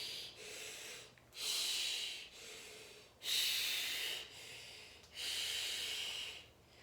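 A storyteller's voice imitates a monster's heavy panting: four loud, rasping breaths, each about a second long, with short pauses between them.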